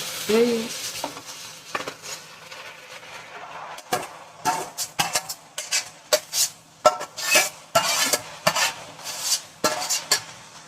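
Marinated chicken goes into a pan of potatoes, onion, tomato and green chilli for a Bengali chicken kosha curry, and the mix is stirred with a utensil. A soft sizzle runs underneath irregular scraping and clanking strokes that grow busier and louder.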